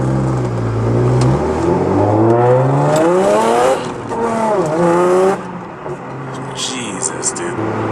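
Supercharged car accelerating hard through the gears, engine and supercharger whine rising sharply in pitch with quick shifts between pulls, loud and close inside the cabin, with a person speaking during the run.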